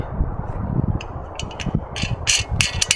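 A Sven folding saw being put together, with its wing nut threaded back on: a run of small, sharp metallic clicks and ratcheting ticks, close by over a low, rumbling background.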